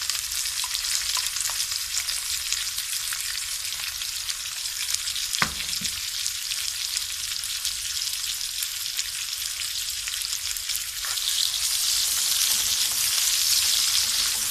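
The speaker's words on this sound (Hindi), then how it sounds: "तेल गर्म हो गया, ज़ीरा पकने लगा, तो अब हम इसमें प्याज शामिल कर देंगे" Onion is dropped into hot oil with cumin seeds for a bottle gourd curry and sizzles in a loud, steady, close hiss. Faint clicks of stirring come through, and the frying grows slightly stronger toward the end.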